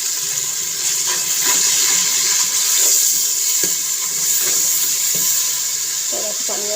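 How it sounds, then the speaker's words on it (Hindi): Water is poured into a pan of onions frying until browned for aloo gobi, giving a broad, steady sizzle and hiss throughout with a few short clinks of utensils. "इसमें थोड़ा सा पानी लगाते हैं घूंट के बराबर।"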